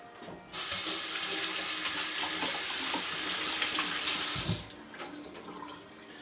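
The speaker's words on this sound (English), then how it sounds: "And wash my hands." Tap water runs steadily into a kitchen sink as hands are washed, a loud, close rushing stream lasting about four seconds before it is shut off.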